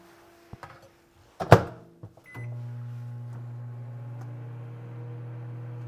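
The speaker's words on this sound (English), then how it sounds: "I'm going to throw this in the microwave for just a couple of seconds" A few clicks and a door thunk, then a microwave oven starts and hums steadily with a low, constant drone while briefly softening a candy ingredient.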